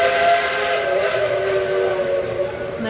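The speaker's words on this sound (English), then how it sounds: "There's the train." A steam train's whistle blows in one long, loud, sustained hiss-edged tone near Aunt Granny's buffet at Dolly Parton's attraction, sounding alone throughout.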